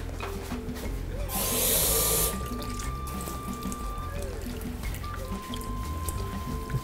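Tap water splashes briefly into a pot of piangua shellfish being prepared with salt, a short close gush followed by quieter trickles and kitchen clatter.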